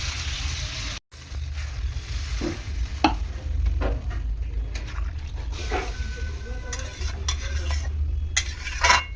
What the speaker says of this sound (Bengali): আমি বাটিটা ধুয়ে জলটা দিয়ে দেবো